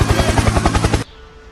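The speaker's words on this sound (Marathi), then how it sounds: "helicopter helicopter" A helicopter in the Blox Fruits video game gives off a loud, rapid, even chopping pulse, close and full, then cuts off abruptly, leaving a faint hum.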